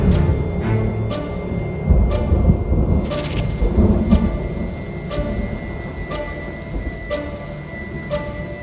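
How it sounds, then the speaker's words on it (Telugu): A heavy night rainstorm pours steadily with thunder rolling in the distance. Dense rain hiss fills the whole stretch, and faint regular ticking drips sound alongside, with no voices. "వర్షం తగ్గలేదే."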